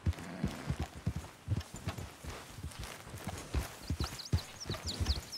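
Horse hooves clip-clop in Red Dead Redemption 2, a quick, uneven run of close, crisp hoofbeats on hard ground with a few faint higher chirps near the end.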